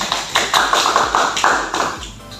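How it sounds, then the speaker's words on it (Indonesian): Classroom applause for a student in a third-grade lesson in an Indonesian primary school, a short burst of scattered claps and taps from a small group, close and uneven, fading out after about two seconds. "Ya, aplaus buat Mbak Alan."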